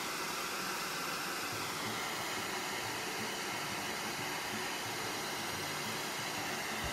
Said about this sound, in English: how you hold your hair dryer